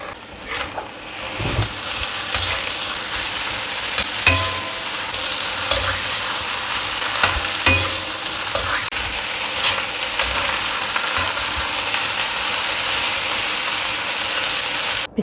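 Bok choy and shallot greens are stir-fried into spicy nasi goreng mawut, with a constant close sizzle under repeated scraping and clacking of a spatula against the pan.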